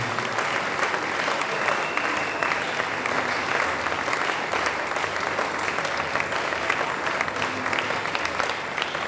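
A church congregation applauds steadily for about nine seconds, a dense, continuous patter of many hands clapping with no pauses and no talk over it.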